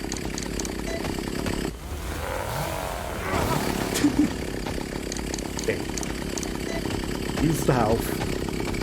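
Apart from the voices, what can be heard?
chainsaw of the chainsaw man enemy in a video game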